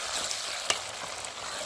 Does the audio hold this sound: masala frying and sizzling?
yes